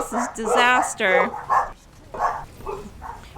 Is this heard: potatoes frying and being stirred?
no